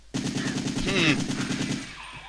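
Rapid automatic gunfire from Resident Evil 3: Nemesis, a sustained burst of steady repeated shots lasting nearly two seconds, loud and close with game sounds layered over it.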